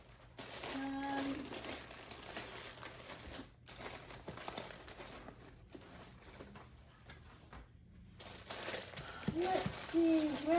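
Paper packaging for a mailed jewelry order being folded by hand, giving close, intermittent crinkling and rustling that comes in bursts with brief quiet gaps.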